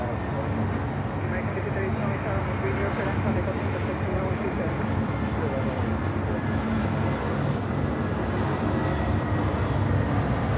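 Avianca airliner on approach to Miami Airport, a broad, steady jet roar that stays loud throughout, with people talking over it.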